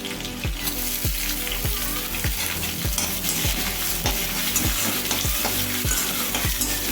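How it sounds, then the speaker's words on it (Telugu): Chopped onions and green chillies frying in a pan for a bottle gourd fry, a loud continuous sizzle with regular scraping strokes of a spatula stirring throughout. "ఆనియన్ బాగా వేగాలండి. చూడండి, ఇట్లా కొంచెం వేగాయి కదండి."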